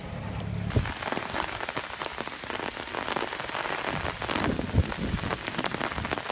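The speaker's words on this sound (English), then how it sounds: "Do you know it's raining outside?" Rain falls steadily outside, a dense close patter of drops hitting a surface with a few louder splats, continuous and without voices.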